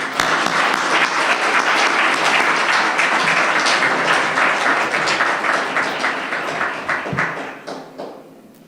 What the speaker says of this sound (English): I want to give you guys all a big round of applause